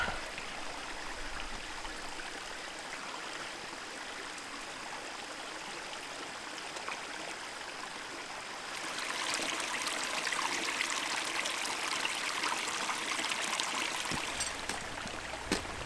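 A mountain stream in the Adirondack High Peaks wilderness flows in a constant babbling trickle and splash, growing somewhat louder and busier partway through, with no voices.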